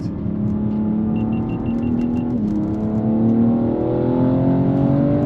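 BMW M3 engine accelerating hard on a race track, a loud steady drone climbing in pitch as the revs build over several seconds, close and continuous with no talk.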